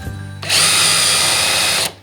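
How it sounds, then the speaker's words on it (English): A power drill bores into wood while building a DIY cornhole board: one loud, close, steady whine lasting just over a second, with a short pause before and after. "we don't really want to drill much into that one"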